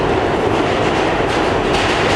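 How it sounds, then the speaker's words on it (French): A New York subway train rolls past nearby, a loud, steady rumble of wheels and carriages with faint clatter and no voices. "c'est le métro qui..."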